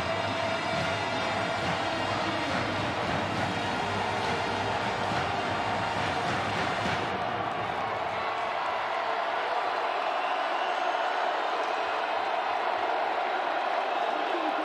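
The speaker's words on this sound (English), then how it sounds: "this is where this sold out crowd can start to get into it." A sold-out stadium crowd at an NCAA FCS championship quarterfinal football game, North Dakota State against South Dakota, keeps up a dense, continuous roar of cheering, steady and full throughout.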